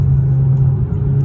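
A Kia K5 GT-Line with a high-flow catalytic converter, its exhaust giving a loud, steady low rumble close by, a brief alone burst with no talk.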